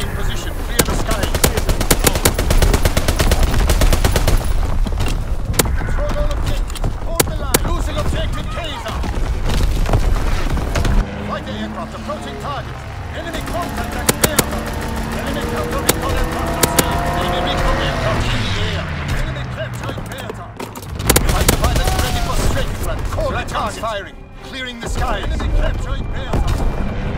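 Call of Duty WWII video game combat: loud, sustained machine-gun fire and heavy artillery booms fill the clip, with a radio voice speaking between bursts and explosions.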